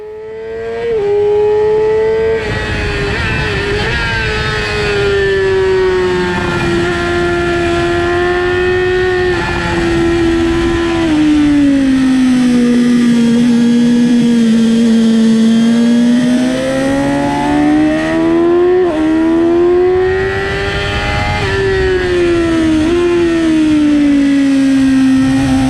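A Yamaha R6 screams around the Alès race track, its engine a loud, close, sustained whine whose pitch climbs and dips through the gears and corners, with no talking.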